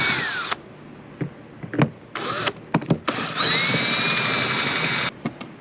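A power screwdriver backs out Phillips head screws from the bracket of a Goodyear retractable air hose reel: a brief whir, a pause with clicks and taps, then short bursts and a longer close buzzing run.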